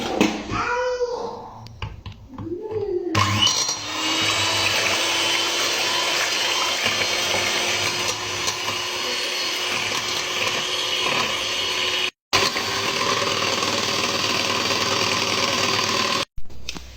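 An electric mixer whirs steadily as it beats cake batter with sugar and milk for a volcano cake. After a voice briefly at the start, the motor drones on evenly, with two short cut-outs.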